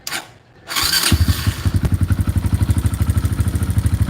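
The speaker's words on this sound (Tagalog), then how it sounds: "Ito, medyo malagitik to kasi naka-racing cam." A Kawasaki KLX 150 motorcycle engine fitted with a racing cam cranks and starts, then settles into a fast, even idle with a rhythmic mechanical ticking running through it, loud and close.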